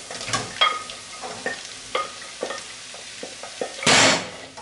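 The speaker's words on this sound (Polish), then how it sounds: "Do zeszklonej cebuli dodaję marchewkę i kalafior." Diced carrots and cauliflower stirred into softened frying onion, a spoon scraping and clacking in the pan in irregular strokes over a soft sizzle, ending in a louder burst of frying.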